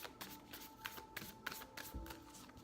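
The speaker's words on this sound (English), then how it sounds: "while I'm shuffling" A deck of oracle cards being shuffled by hand, close and soft, a quick run of papery riffles and taps in an even rhythm.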